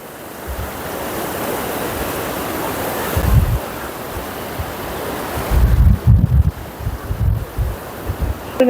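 Floodwater from the Thirumanimutharu river surges past a dam at Melsathambur in a steady broadband roar, loud and close, with gusts of wind buffeting the microphone and no voices.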